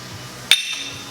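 A single light, sharp metallic tap during assembly of a Holset turbocharger's heat shield, brief and close with a bright clink over a quiet workshop background.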